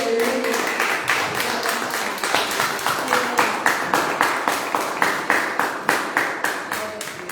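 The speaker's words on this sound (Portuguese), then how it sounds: "Aplaude esse Deus maravilhoso." A church congregation claps in a steady, brisk rhythm of sharp, loud beats that continues for several seconds, with no one talking over it.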